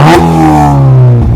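A stage 2 remapped car engine with a full stainless steel exhaust system revs in one loud, close, sporty blip that rises sharply and holds before dropping back.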